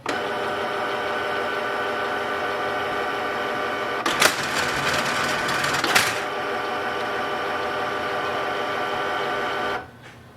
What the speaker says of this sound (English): Printer will make some noise and now it's ready.